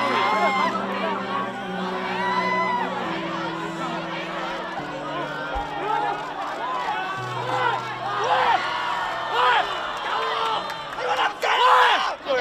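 Angry crowd trapping airline passengers: many voices shouting and yelling together over a low drone, with the shouts swelling louder and more frantic toward the end.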